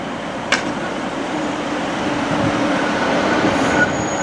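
A diesel multiple-unit passenger train (class 156) arrives at a station on the East Midlands line, a steady rumbling rolling noise with a sharp click early and faint wheel squeal, continuous and fairly close.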